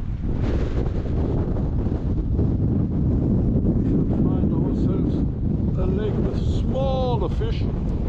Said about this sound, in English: Oh, the wind. Oh, we are almost blown into the lake here.